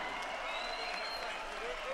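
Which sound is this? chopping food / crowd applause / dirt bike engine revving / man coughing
crowd applause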